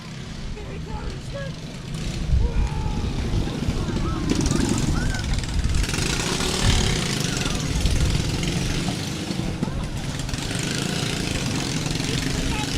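Small red Shrine club parade cars from the Cornhusker Shrine Club of Wayne, Nebraska, their engines idling and revving in a steady low rumble as they pass along a street parade route, with crowd noise and voices mixed in.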